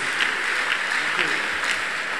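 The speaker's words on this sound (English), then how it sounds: "clap for Jesus, clap for Jesus" Church congregation clapping during a worship service, a continuous dense roar of applause with faint voices mixed underneath.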